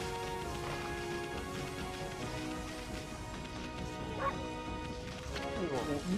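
A dog barks and yips in the game Okami HD, short repeated calls over a soft musical background, fairly faint, with no speech.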